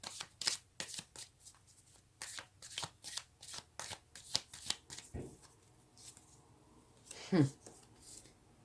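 Tarot cards are shuffled in a quick rhythmic run of crisp riffles and flicks, close and fairly quiet, followed by a short pause and a final card snap.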